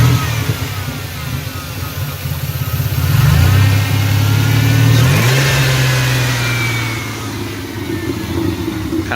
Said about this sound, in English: Kind of wants to overrun there a little when I rev it.